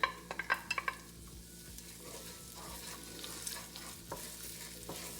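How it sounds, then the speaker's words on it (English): Garlic and onion frying in olive oil in a soup pot, a steady soft sizzle under occasional stirring clinks and scrapes, a few sharper utensil taps at the start, close but quiet. "I'm just going to cook this until it's just a little bit translucent"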